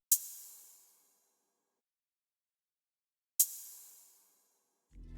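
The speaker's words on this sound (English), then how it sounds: "that one's almost like a hi-hat, but just with like a bunch of reverb on it." Two bright, airy open hi-hat hits in an FL Studio beat, each drenched in heavy reverb and trailing off for about a second, spaced roughly three seconds apart with silence between, before a low thump enters at the end.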